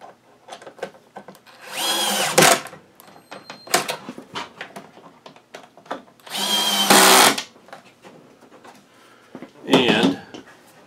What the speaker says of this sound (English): you're ready to screw these two screws back into place